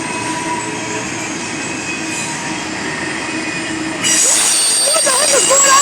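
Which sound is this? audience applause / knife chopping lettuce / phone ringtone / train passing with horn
train passing with horn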